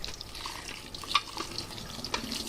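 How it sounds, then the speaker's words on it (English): Cottage cheese curds are rinsed under a running sink tap, a soft, fairly quiet stream of water with light splashes and drips, no voices. "Get this all strained up, and then we'll go to the sink and rinse it."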